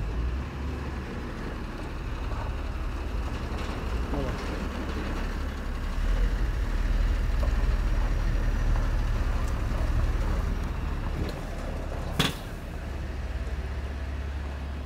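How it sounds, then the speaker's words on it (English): China Motors trucks such as Shacman, FAW or Howo roll into a warehouse yard, giving a steady loud low engine rumble that swells in the middle, with one sharp bang near the end. "Xullas, yangi partiya China Motors'ning avtomashinalari mana kirib keldi."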